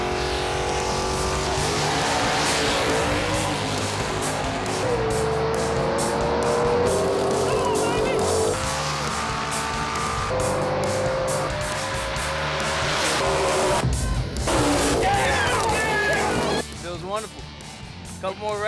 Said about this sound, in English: Now he's going against Ronnie Harper in a 68 Camaro. 453 cubic inches, the big block Chevy